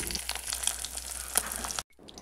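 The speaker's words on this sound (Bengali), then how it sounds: "তো মাছগুলো আমি ভেজে নিচ্ছি।" Phaloi (bamboo-leaf) fish fry in oil in a pan, producing a close, even hiss with scattered crackles and small pops that stops abruptly, leaving near silence.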